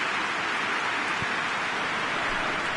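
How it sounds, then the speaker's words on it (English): Rain falls in a PES 2020 football video game, a soft, steady hiss of even density with no talk. "Just starting to get the first signs of rain here."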